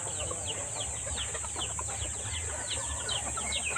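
Chickens clucking steadily at a farm poultry area near trees, many overlapping birds chattering at moderate distance over a constant high insect-like hiss.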